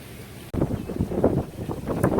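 Wind during Tropical Storm Delta, blowing outdoors after sudden rain, a gusty rushing roar with buffeting against the microphone that starts abruptly and stays strong.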